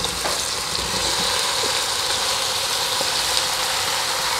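Marinated vegetables for veg biryani fry in a pan, a continuous close sizzling hiss with faint scattered crackles, steady and unbroken throughout.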